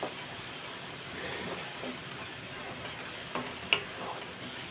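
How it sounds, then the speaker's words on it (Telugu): Onions frying in a pan with ginger garlic paste, stirred now and then, giving a soft steady sizzle with a few faint scrapes and one sharper clink near the end. "ఒకసారి మనం కలుపుకుందాం. ఉల్లిపాయ మగ్గుతుంది కదండి."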